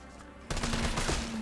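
Assault rifle fire in Resident Evil 3 Remake, a loud sustained burst of rapid shots starting abruptly after a quiet half second and continuing to the end, with no talk over it.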